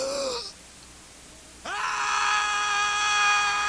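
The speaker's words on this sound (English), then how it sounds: "I'll scream out with all my life." A man screams in agony in a dramatic audio play: a short cry, a brief hush, then a long, loud, sustained wail close to the microphone.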